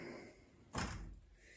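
A drawer on a U.S. General 72-inch toolbox slides open in one quick rolling whoosh that ends with a soft thud, quiet and close.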